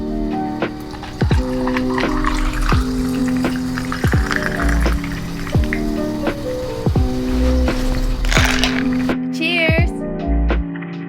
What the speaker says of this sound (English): Top it off with some sparkling water.